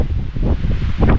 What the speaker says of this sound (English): It's incredibly windy up here to the point where there are times where it's hard to stand up straight with the gusts.